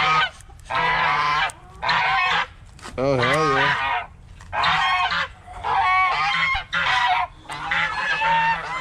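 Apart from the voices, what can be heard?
Chinese geese honking loudly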